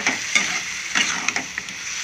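Vegetables and chana dal fry in oil with chili powder, a bright sizzle broken by several sharp scraping stirs of a spoon against the pan, close up with no talking.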